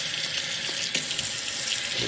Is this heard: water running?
yes